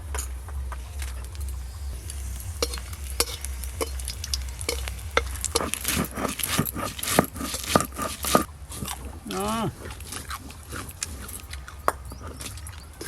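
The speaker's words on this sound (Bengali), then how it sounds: "তেল গরম হয়ে গেছে, এবার শুকনো লঙ্কাগুলো ভেজে নেব" Dry red chillies fry in hot oil in a home kitchen, with a steady close sizzle, sharp crackles and pops, and occasional stirring scrapes throughout.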